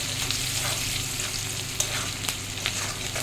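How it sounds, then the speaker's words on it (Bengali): Onion frying with salt in a pan, a steady close sizzle with a few light scrapes of stirring. "পেঁয়াজটা একটু নুন দিয়ে ভাজতে দিয়েছি, তারপর মশলাটা দেবো।"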